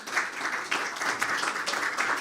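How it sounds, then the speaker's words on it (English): Audience applause at a press briefing, a steady wash of clapping from a crowd lasting a couple of seconds at even loudness, with no speech over it. "I'll pause right there for you to give her some applause on that one"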